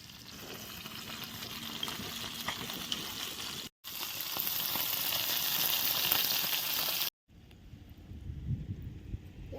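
Jilebi fish, freshly caught on a hook, fries in a pan outdoors, giving a steady crackling sizzle broken by two brief cuts, with faint wind noise and a softer, quieter stretch at the end.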